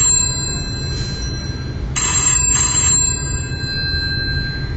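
A telephone bell rings in two short bursts of rapid jangling, loud and close, separated by a brief gap, with a faint tonal hum underneath and no voices during the ringing.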